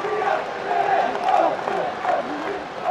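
Large stadium crowd of nearly 40,000 at a Gaelic football championship match between Kildare and Donegal, a steady roar of cheering and shouting with swelling peaks, commentator-like voices faintly mixed in.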